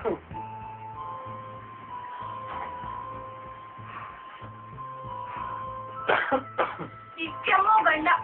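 A man coughing indoors, several harsh coughs and throat-clearing bursts toward the end over a steady background of faint tonal music or hum.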